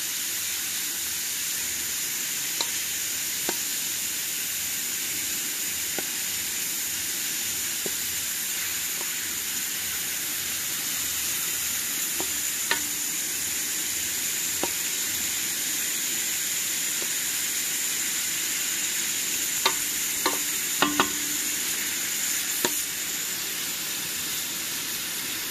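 Beef sears in a hot pan with a long, even hissing sizzle and scattered small pops and ticks, continuous at moderate level with no talking.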